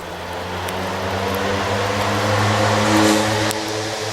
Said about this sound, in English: Somebody on a dirt bike cruising by on the trail.